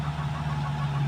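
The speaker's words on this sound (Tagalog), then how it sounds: "May background pa kaming traktora." A tractor engine idles in the background outdoors, a steady low hum and rumble running evenly throughout with no talk over it.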